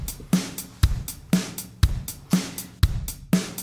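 Steady drum groove with alternating kick and snare, and closed hi-hats ticking twice as often, once on each hit and once in between, giving a driving eighth-note pulse, clean and close.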